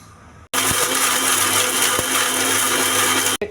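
An electric mixer grinder blending coconut and peanut chutney in a mixie jar starts abruptly with a loud, steady high-pitched whine and stops after about three seconds.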